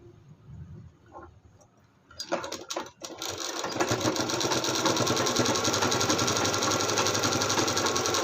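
After a few quiet handling sounds, a sewing machine starts up and runs in a loud, rapid, even rattle while stitching a blouse, holding its pace to the end.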